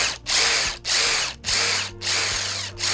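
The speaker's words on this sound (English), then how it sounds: "When starting to drill a hole, you have to start slowly" A power drill boring a hole in a pine cone whirs in short bursts, stopping and restarting about five times, close and fairly loud.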